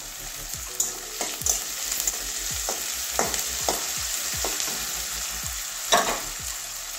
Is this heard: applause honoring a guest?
no